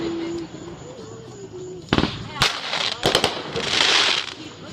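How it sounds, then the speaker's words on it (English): Fourth of July fireworks explode in a string of loud, sharp bangs and crackling bursts, the later ones denser, over a steady background hiss with people talking nearby. "Fountain of Death, explosions, and another explosions, There's a grenade explosion happening."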